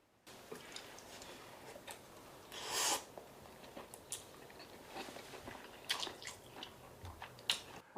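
Someone eating rice mixed with wild chive sauce, quiet close-up chewing and spoon clicks in small irregular bursts, with one louder clatter near the start.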